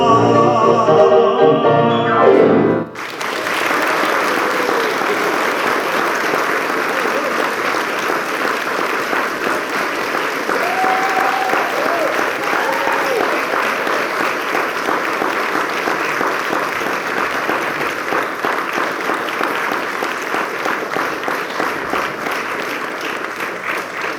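Long, sustained audience applause at an outdoor benefit concert, thick even clapping from a large crowd that begins abruptly after a brief musical ending and continues steadily, slowly fading.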